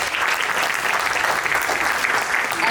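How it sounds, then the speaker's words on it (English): A live audience applauds for a rising young motorsport driver at a talent event, giving a steady, dense wash of clapping that stays loud and even from start to finish, with no voices rising above it. "Please welcome and give a big round of applause to the rising motorsport star on track towards"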